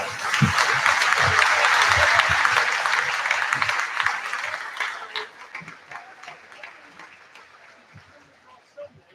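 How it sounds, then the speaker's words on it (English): A high school volleyball crowd in a gym applauds the officiating team, loud clapping and cheering that swells early and then tapers off, with scattered voices underneath. "please stand and give a big round of applause to the officiating team working today's contest"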